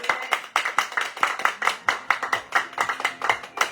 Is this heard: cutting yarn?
no